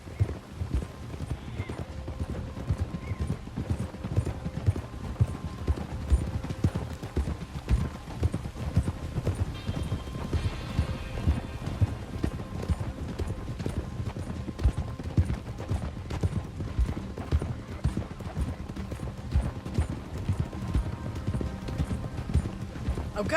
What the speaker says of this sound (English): We leave our horses by the bridge, then we find him.